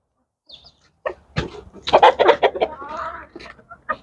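Several chickens cluck in a rapid, uneven series close by in a farmyard with sheep nearby, with short sharp calls and a low rumble underneath.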